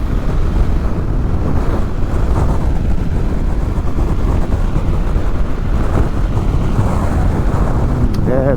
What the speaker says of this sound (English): Yeah, there's a lot of wind.